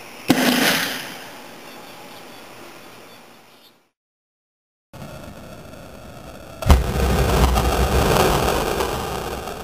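A homemade toilet paper cannon fires twice, each shot a sharp whooshing blast that trails off into long hissing rumble. A short silence separates the shots, and the second shot is louder and deeper.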